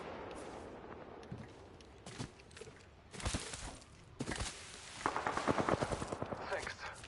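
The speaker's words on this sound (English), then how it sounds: "I hear gunshots everywhere" Gunfire from the battle-royale video game Apex Legends, played on PS4 Pro: bursts of rapid shots and scattered single cracks, some distant and some closer, growing denser toward the end, with people talking over it.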